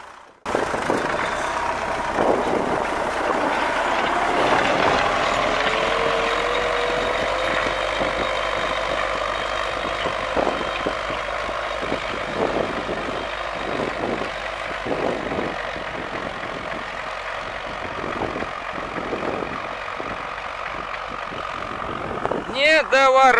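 An MTZ-80 tractor fitted with a PLN 3-35 plough, its diesel engine droning steadily and loudly with a rough, pulsing tone and a faint rising whine partway through, ending in a sharp mechanical clatter.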